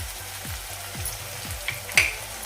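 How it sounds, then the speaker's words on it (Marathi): Spices such as red chilli, turmeric, coriander powder and garam masala sauté with onion and tomato for a bhindi masala, a low steady sizzle with soft rhythmic stirring scrapes and one brief clink, no voices. "आता हे पहिल्यांदा व्यवस्थित असं परतून घ्यायचं कांदा टोमॅटोमध्ये"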